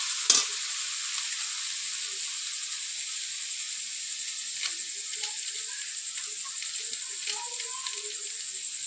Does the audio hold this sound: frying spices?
yes